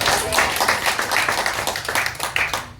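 A church congregation clapping hands together in praise during a Sunday service, a dense, steady run of overlapping claps that carries on through the whole stretch with no talk over it.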